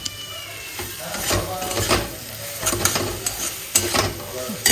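Spices and chicken sizzle in a frying pan while a spoon stirs and scrapes in irregular strokes, a close, continuous frying hiss underneath.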